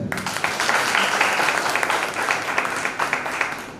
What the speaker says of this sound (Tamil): இப்ப எங்களுக்கு தேவை உங்க கைதட்டு.